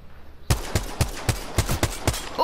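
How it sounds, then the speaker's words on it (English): Rapid G7 Scout rifle fire in Apex Legends, about eight sharp, loud shots in a steady rhythm with short gaps between them, close and alone without talk. "Opening fire."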